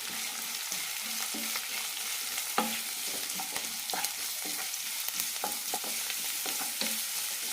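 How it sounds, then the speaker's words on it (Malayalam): Onions and curry leaves sauté in a pan with a quiet, even sizzle, while a ladle taps and scrapes the pan in an uneven, steady rhythm throughout. "കുറച്ച് കറിവേപ്പില ഇടാം നന്നായി വഴറ്റാം"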